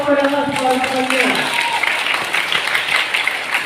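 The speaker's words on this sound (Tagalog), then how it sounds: "Pwede ka pumalakpak sa Kanya." Church congregation breaking into applause after a speech ends, broad clapping building and sustained close and loud across the room.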